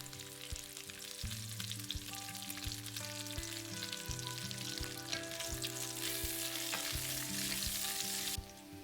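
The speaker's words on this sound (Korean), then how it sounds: "그리고 통마늘도 같이 구워주다가 삼겹살은 먹기 좋은 크기로 잘라준다." Pork belly and whole garlic fry in a pan, with a continuous steady sizzle beneath louder background music.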